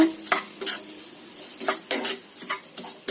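Maggi noodles with masala stirred in a hot pan, giving a soft sizzle under repeated scraping strokes of a spatula against the metal, close and uneven in rhythm.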